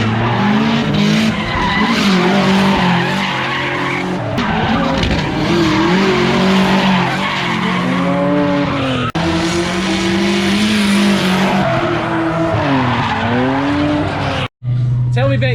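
A Subaru wagon drift car with a turbo boxer engine screams and revs hard while its tires skid and squeal in long sliding passes, loud and close, with a brief cut near the end.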